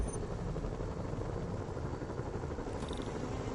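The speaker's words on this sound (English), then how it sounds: "Bet I can use those helicopters to swing." Helicopters in the Spider-Man video game give a steady, dense rotor-and-engine drone that holds at an even level throughout, with no voices.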